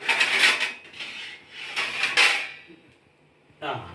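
Plates and dishes handled in a home kitchen: close clinks, scrapes and clatter in several short bursts, with a brief pause before a final knock.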